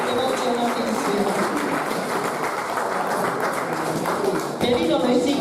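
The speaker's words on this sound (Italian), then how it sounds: "Applauso di incoraggiamento perché emozionatissimo." An outdoor audience claps steadily to encourage a nervous poet at a poetry gathering in Tzaramonte, the applause sustained and fairly loud with a brief dip near the end.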